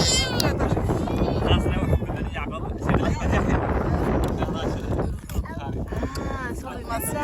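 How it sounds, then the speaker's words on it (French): Desert wind in Nouakchott buffets a microphone with heavy, gusty low rumble throughout, while people talk underneath. "Je ne sais pas si vous allez m'entendre avec le vent."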